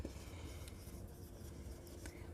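Marker or chalk scratching across a board during an accounts class, a steady faint rubbing texture with a few sharper strokes over low room hum, no talking.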